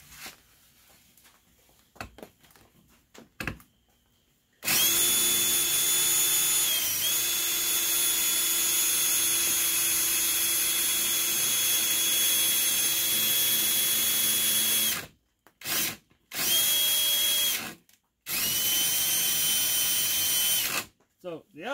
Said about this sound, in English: this motor's running that motor